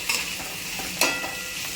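Shredded cabbage is stirred into a hot frying pan for Marathi kobichi bhaji, a steady close sizzle with scraping spoon strokes and a sharper clack near the middle.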